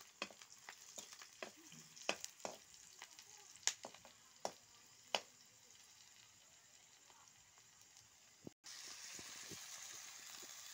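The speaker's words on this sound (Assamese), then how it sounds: "এয়া তেল আৰু পিয়াজ দিলো পিয়াজখিনি এনেকৈ লৰাই আছো" Onions frying in oil as they are stirred, a low steady sizzle broken by scattered clinks and scrapes of a utensil against the pan, fairly faint and with no talk.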